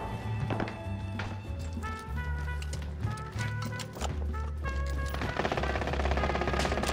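Gunfire between two teams in Call of Duty Warzone on Rebirth Island, with rapid bursts and scattered thumping shots over a musical backdrop, moderately distant rather than close.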